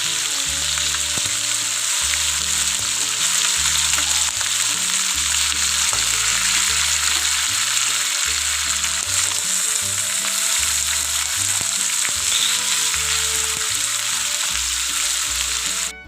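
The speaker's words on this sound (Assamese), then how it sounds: "মাছকেইটা মই অকণমান ভাজি লওঁ, হাফ ফ্ৰাই কৰি লওঁ।" Small fish half-fry in hot oil, a loud, continuous sizzle and crackle close by with a few soft clinks from the pan, and no talking.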